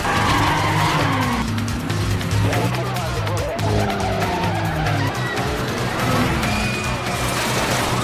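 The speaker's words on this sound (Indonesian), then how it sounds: "Sialnya, banyak mobil polisi mengejarnya." Cars racing and skidding in a Death Race action film as a speeding car flees pursuing police cars, with continuous loud engine roar, tire squeals and crashing effects throughout.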